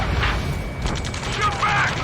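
Gunfire during a ground rescue mission in the video game Ace Combat 7, bursts and rattling shots scattered beneath urgent shouted radio voices, with a busy, noisy battle backdrop.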